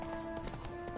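Quick rhythmic hoofbeats of Roach, the horse in The Witcher game, clattering in a steady gallop under a continuous tonal hum of game ambience.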